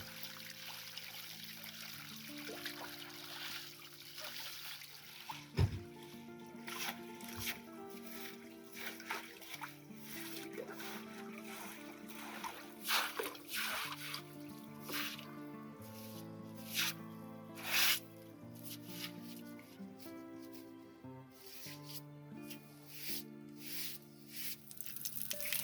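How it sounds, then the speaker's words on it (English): A farm animals' water trough being washed, with sloshing, splashing and trickling water in irregular bursts, mixed with scraping and knocks, set against a steady musical background. "Uncle Mirza regularly washes the animals' water trough to keep their water clean"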